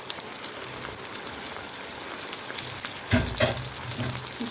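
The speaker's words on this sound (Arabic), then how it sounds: "البصل عندي دبل، هنزل عليه صدر الفرخة متقطع بالطريقة دي كده شرايح" Chicken breast strips frying with onions in a pan, a steady close sizzle with a louder burst of crackling as food is moved about.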